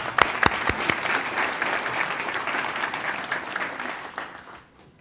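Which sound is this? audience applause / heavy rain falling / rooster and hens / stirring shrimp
audience applause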